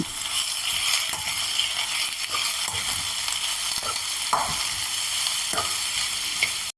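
Onion, green chilli and crushed ginger fry in a pan with curry leaves, giving a steady loud sizzle broken by repeated scraping stirs of a spoon.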